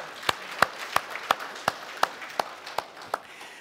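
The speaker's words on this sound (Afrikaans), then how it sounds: "Kom ons klap vir hom aan." An audience claps in unison for an 11-year-old boy's birthday, about ten crisp, evenly spaced claps in a steady rhythm that fade slightly toward the end, with no voices over them.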